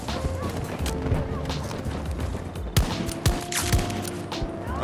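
Sharp rifle gunfire from an SVK in a first-person shooter game, with several loud cracks landing near the end among other distant shots and battlefield noise.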